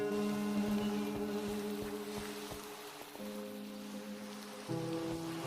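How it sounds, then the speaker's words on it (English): Steady acid rain pours down in a Minecraft world, a constant hiss of falling drops with tonal game music layered over it, holding even through the clip. "It's acid rain."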